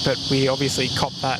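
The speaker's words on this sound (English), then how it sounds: "That's the sound of the cicadas." Cicadas drone in a tree overhead in the shade beside Sydney Airport, a steady high-pitched buzz running continuously beneath someone talking close by.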